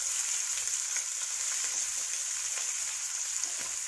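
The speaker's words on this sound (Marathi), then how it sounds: "त्यानंतर मी हा कांदा ॲड करणार आहे." Chopped onion frying with dry prawn masala in a pan, a steady, close, continuous sizzle with faint crackles and no talking.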